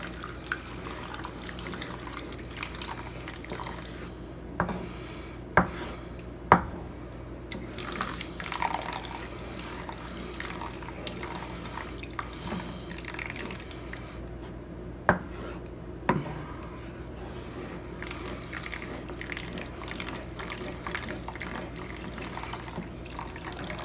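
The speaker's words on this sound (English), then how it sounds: "Okay, so now I'm going to add beef broth. I'm going to add a whole can" Beef broth pours from a can into a pot as a soft, continuous liquid splash, with a few sharp clinks of metal against cookware scattered throughout.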